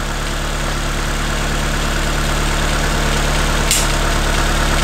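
A 1995 Opel Astra F with the X16SZ engine idles steadily and close up, with a faint repetitive clacking under the even engine drone and no talking.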